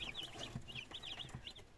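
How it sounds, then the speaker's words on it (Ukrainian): Young chicks kept in a pen peep in a steady run of short, high chirps. The sound is moderately faint and close, with soft low bumps and no talk. "Ось які наші пташенятка."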